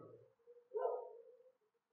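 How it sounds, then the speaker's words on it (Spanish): A dog gives a short bark followed by a brief whimpering yelp, faint and somewhat distant, heard on its own without speech. "no hagan caso a los perros"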